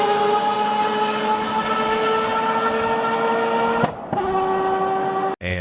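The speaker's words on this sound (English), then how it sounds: "And the third car sound is Mazda 787B." A Mazda 787B race car engine screams at a high, steady pitch, drops briefly as it shifts, then climbs again, loud and close, with no talking.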